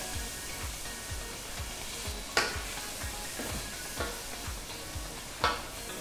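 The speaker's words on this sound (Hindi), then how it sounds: "आलू कच्चे हैं वो आलू पहले डाल लेते हैं" Raw potatoes fry in a pot as a first step for vegetable dum biryani, a soft continuous sizzle under regular low ticking thumps and a couple of sharper stirring clanks.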